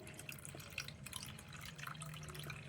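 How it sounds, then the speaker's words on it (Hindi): Water drained off soaked semolina while making doodhi makhandi halwa, a faint, steady trickle with scattered small drips and splashes running throughout. "अब ये जो इसके ऊपर पानी है, इस पानी को हम उतार लेंगे।"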